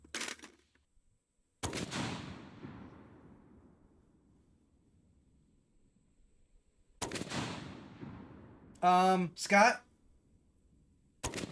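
A bolt gun fires a magazine dump in several loud, sharp bursts, each trailing off in a long echoing decay across an outdoor range, with voices talking briefly between the shots.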